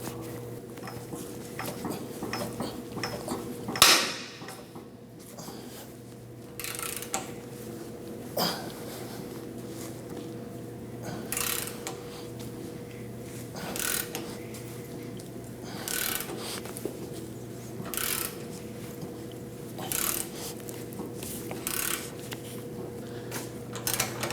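A wrench breaks a rear shock absorber bolt free on a 2009-2017 Audi Q5, giving one sharp crack near the start over a steady mechanical hum, followed by a few faint scattered clicks and rubs.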